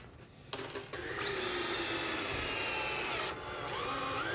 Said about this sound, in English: So we use a nice trim head screw here, Tommy, so a very small hole to fill.